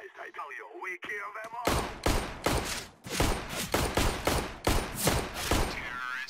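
Gunfire in CS:GO during a one-on-one match, with rapid bursts of shots following a brief quieter opening, under occasional player talk.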